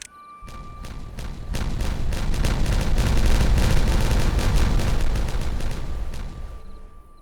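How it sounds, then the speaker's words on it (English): Video-game explosion in Timberborn: a dense rolling barrage of booming blasts and cracks lasting several seconds, loud and sustained before tapering off, with no talk over it. "Dude, like me a good explosion."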